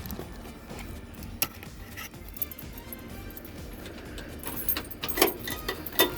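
Car keys jangle and scrape close by as someone fumbles to fit one into the ignition of an American vehicle, irregular metallic clinks and rattles growing busier toward the end, with no one speaking.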